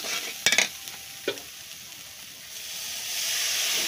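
Spice masala sautéing in hot oil for a bottle gourd curry gives a steady sizzling hiss, with two sharp spatula strikes against the pan early on. The hiss swells louder toward the end, and no one speaks.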